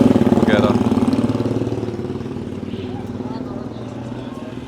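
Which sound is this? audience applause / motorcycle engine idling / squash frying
motorcycle engine idling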